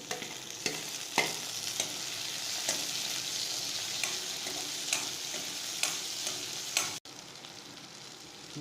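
Onion and tomato sauté in a pan for ginger chutney, a soft continuous sizzle broken by sharp clinks of a spoon stirring against the pan, close and fairly quiet.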